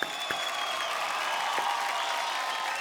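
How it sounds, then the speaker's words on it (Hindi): Applause from the studio audience of a televised folk singing reality show, a steady dense wash of clapping lasting about three seconds with no talk over it. "जोरदार तालियां"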